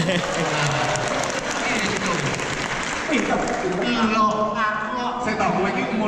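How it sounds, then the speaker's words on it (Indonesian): Audience at a comedy show in a polytechnic hall claps for the lecturers, crowd applause under voices that grow clearer toward the end. "kalau tepuk tangan untuk dosen yang lain"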